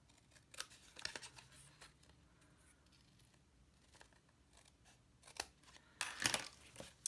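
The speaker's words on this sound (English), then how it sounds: "bring in my scissors and just cut off the top and the bottom" Scissors cut through card stock in a few short bursts of snipping and crisp slicing, spread out with quiet pauses between, close and fairly soft, with no talking.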